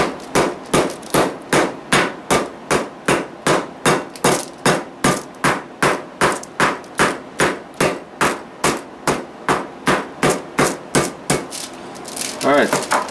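Mallet pounding schnitzel meat thinner on a board, a long run of steady, evenly spaced thuds, close and loud, about two per second, ending in softer rustling.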